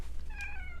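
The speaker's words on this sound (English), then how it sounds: "She finally meowed." A single short meow from a house cat, close and clear over a low steady background hum, with no talking.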